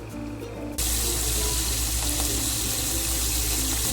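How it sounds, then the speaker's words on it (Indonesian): Salted peda fish frying in oil in a wok, a steady loud hissing sizzle that jumps up abruptly after a quieter start and holds evenly to the end. "Akan saya goreng ikan asin pedanya."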